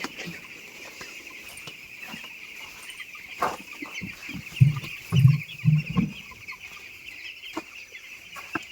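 Hens clucking in a poultry shed in a short burst of low calls near the middle, over a steady background hum with a faint high buzz.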